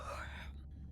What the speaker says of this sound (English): Was that a yawn?